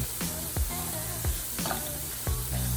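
Chicken fries in a pan with a steady loud sizzle while a utensil stirs and scrapes it in repeated strokes, close up, with no talking.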